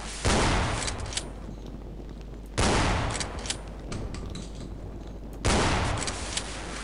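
Three loud, booming shotgun blasts in the horror video game Afraid of Monsters, spaced a few seconds apart, each followed by a long ringing tail.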